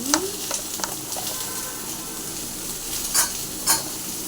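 Eggplant and potato curry sizzles in a pan as it is stirred, with a few sharp scrapes and clinks of the spoon against the pan over the steady frying. No one speaks.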